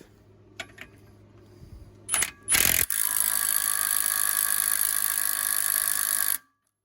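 A Hercules 20V compact impact wrench tightens a nut: a few faint clicks, a short burst of hammering, then a loud continuous rattling impact run for several seconds that stops abruptly.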